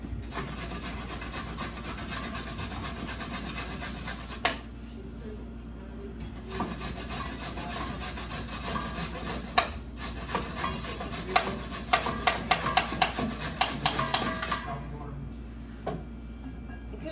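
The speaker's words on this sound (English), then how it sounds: "Using the grater." Vegetables for salt-free lactofermented sauerkraut rasp against a hand grater during a live lecture, in steady close scraping strokes that become quicker and sharper toward the end, over a low background hum.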